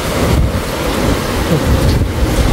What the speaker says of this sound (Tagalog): Ang lakas ng ulan, lakas ng hangin, lakas ng alon.